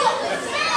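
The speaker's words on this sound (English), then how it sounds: "Listen to this crowd, man." A wrestling event crowd chatters and cheers in a brief, continuous burst of overlapping voices that sounds like a busy arena murmur.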